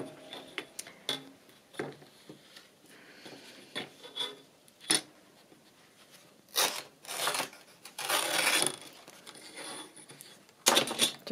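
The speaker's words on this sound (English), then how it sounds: "I'm just going to tear this" A book cover torn by hand across the top for a rough edge, heard as a few short dry rips and rasping bursts separated by pauses, near and moderately quiet.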